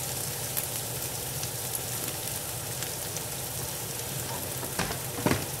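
Chopped garlic sizzles steadily in a hot pan, a dense continuous hiss of frying with a few sharper crackles and pops near the end, no voices over it.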